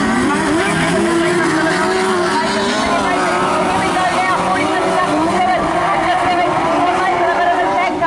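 Sidecar racing engines at Rosebank Speedway during a Trans Tasman Clash of the Sidecars meeting, a constant loud droning roar of several machines circling the track, with a commentator talking throughout.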